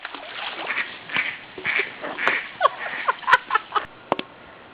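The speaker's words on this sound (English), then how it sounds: "Oh, look, a duck!" A duck quacks outdoors near water during a spring break survival outing, a series of short, loud quacks growing denser toward the end, heard close and alone.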